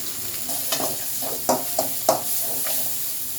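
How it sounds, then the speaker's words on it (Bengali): Spices sizzle and fry in a pan for a chicken and jackfruit seed curry, with several short scraping stirs breaking through the steady crackle. "মশলাটা ভাজার জন্য"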